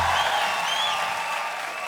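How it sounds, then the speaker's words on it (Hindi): Studio audience applause on a comedy talk show, a dense, even wash of clapping that holds steady and loud for the whole short stretch, with no one speaking over it. "ताली बजाइए इनके लिए।"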